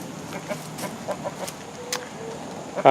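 Chickens in a dirt-floored pen give faint, scattered clucks over a quiet outdoor background, ending in a brief louder burst.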